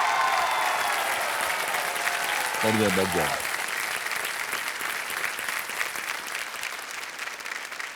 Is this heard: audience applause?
yes